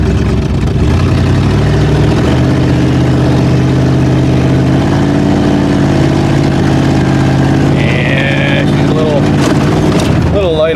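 A Ford Granada's engine runs steadily with a slight stumble, a loud continuous mid-low drone that wavers and shifts pitch under a voice.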